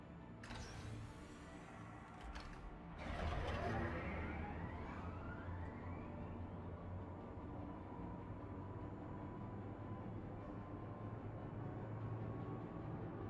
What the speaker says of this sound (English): Careful, doors are now closing.